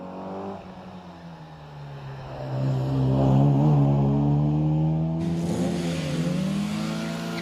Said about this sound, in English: These subsequent MGBs much more modified, I think, than Brian's. This one in particular is very quick